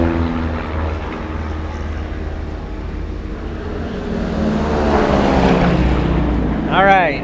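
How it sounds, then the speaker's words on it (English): Several propeller airplanes fly over a hot outdoor fly-in, their broad engine drone steady at first, then swelling louder as one passes closer, with a brief voice near the end. "it is like a lot of airplanes out right now"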